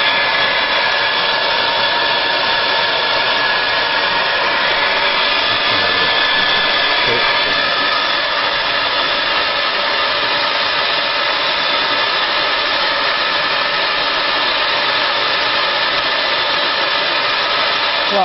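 javaCOOL-CRC ULTRA semi-automatic bean cooler and dechaffer running, a steady loud broadband whoosh of its fan and vacuum assembly, like a hair dryer, holding even for the whole stretch with no pauses.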